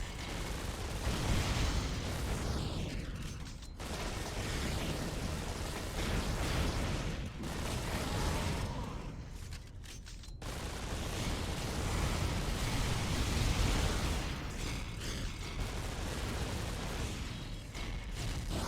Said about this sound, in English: You can just break the boxes by shooting them.